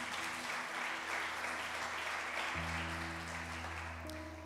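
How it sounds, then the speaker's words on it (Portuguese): A church congregation applauds during a sermon, with continuous clapping heard fairly faintly as a steady wash while sustained musical tones play beneath it. "Quando em meu coração, pode aplaudir a Jesus,"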